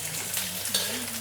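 Asparagus sizzles and crackles in a hot wok as it is stir-fried, a short close burst of frying with a brief scrape of stirring.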